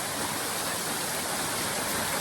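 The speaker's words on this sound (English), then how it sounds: "I saw this beautiful waterfall" A rainforest waterfall pours in a steady, loud, broadband roar, heard up close with no voices over it.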